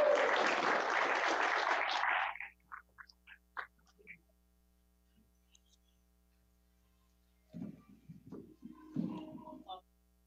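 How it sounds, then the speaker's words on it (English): A burst of clapping from a small group lasts about two seconds, followed by a few scattered claps, quiet, then muffled handling noises. "Let's give them a round of applause"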